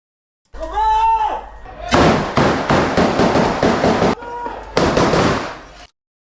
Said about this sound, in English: his friend is firing to the side